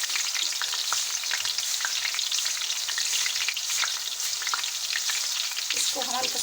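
Chillies fry in a pan for masoor daal, giving a dense, continuous close sizzle with faint stirring clicks and a few scrapes near the end, and no voices.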